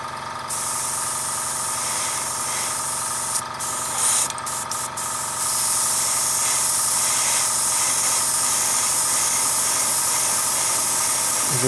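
An airbrush sprays diluted Testors acrylic paint onto a spoon, a steady close hiss of air and paint running unbroken with a few brief sputters and shifts in pressure.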